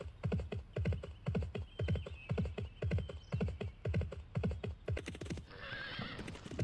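Horse hooves clip-clop in a steady, loud trotting rhythm in the Barbie Race and Ride video game, with a whinny and a brief burst of hoof noise and rustle near the end.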